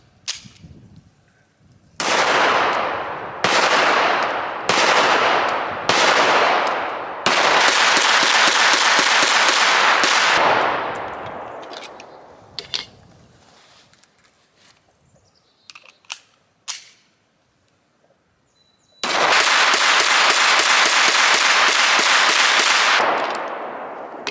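SA 35 pistol, just back from repair, fired in quick strings: a group of four or five sharp reports with ringing decay, a rapid run of shots, a few scattered quieter clicks, then another fast burst, all loud and close with no talking.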